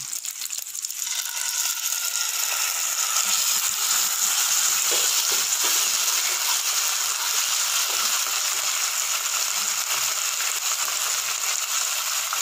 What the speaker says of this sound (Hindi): हमने जो चाशनी तैयार की थी अब इसमें हम डाल देंगे।